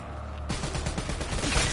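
A rapid burst of gunfire from a video game weapon, several quick shots in a tight rhythm, loud and close, cutting in abruptly after a brief quiet start.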